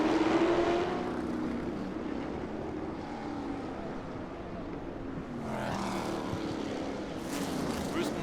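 Can-Am race cars battling at Long Beach, including a Lola and a McLaren, drone past at a distance as a steady engine roar that swells and fades, with a commentator talking over it.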